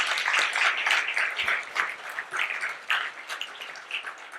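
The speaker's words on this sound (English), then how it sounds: "let's have a huge round of applause" Audience at a literature festival inaugural session applauding, a steady wash of many hands clapping at moderate distance, fading unevenly toward the end.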